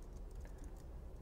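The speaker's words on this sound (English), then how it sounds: "I hit the tab key to autocomplete in case you're wondering how I'm typing so fast" Fast typing of a terminal command on a Mac keyboard, with soft, rapid, continuous key clicks at close range and no talking.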